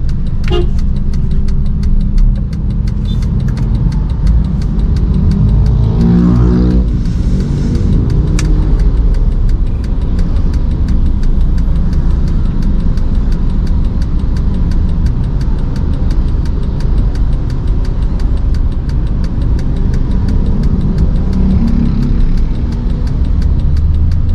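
A 2010 Honda Jazz RS automatic (GE8) driving on the road, with a steady mid-pitched engine hum and road noise running loud and unbroken throughout and a brief horn toot near the start.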